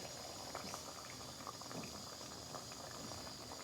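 Tomato, red and black chili masala with half a cup of oil bubbling and frying in a pot for palak gosht, a steady dense sizzle and hiss close by, continuous and even, no voices.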